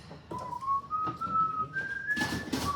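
A single sustained whistle tone glides slowly upward in pitch for a couple of seconds, followed by a short burst of broadband noise.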